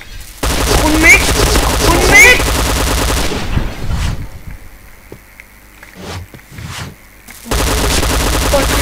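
Loud bursts of rapid video game gunfire from a low-power gun in a PB shooter match open and close the stretch. A quieter gap in between holds softer game sounds and talking.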